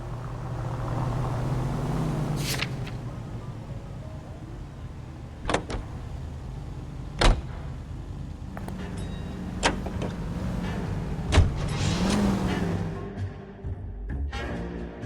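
A car driven through the streets in L.A. Noire, a steady low engine drone with a rise and fall in the middle, broken by several sharp knocks and thumps and some faint background voices.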